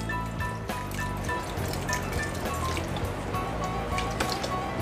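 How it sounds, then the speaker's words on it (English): Beef broth pours from a container into a pan of chili, a steady liquid splash and trickle with small drips, close and continuous throughout. "I'm gonna be adding about 2 cups of beef broth here"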